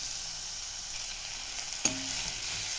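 Grated mango ginger sautéing in a pan with turmeric and asafoetida, a steady close hiss of frying with a single sharp utensil knock near the end.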